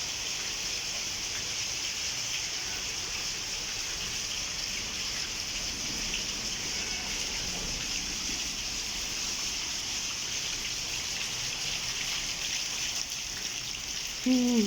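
Steady, dense rainfall hissing continuously throughout during a thunderstorm, with no voices, a constant wash of noise that stays even from start to finish.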